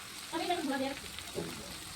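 Chicken pieces frying in oil while meat is cooked alongside pulao, giving a close, steady sizzle with a brief louder swell of bubbling near the start.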